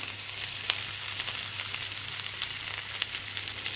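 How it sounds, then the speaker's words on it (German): Cabbage and onions sizzle in a thick cast-iron pan that still holds its heat after the stove is switched off, a steady close crackling fry with light pops throughout. "Ist tatsächlich aus und der brutzelt immer noch, weil der durch dieses dicke Guss einfach so die Hitze speichert."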